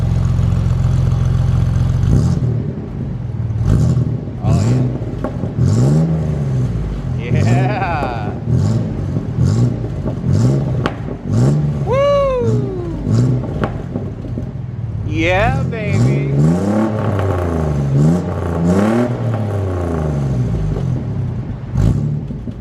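A Chevrolet S-10 Xtreme pickup with a 4.3 V6 and a new exhaust is revved outdoors, its engine rumble rising and sputtering beneath nearly continuous conversation between people standing close by.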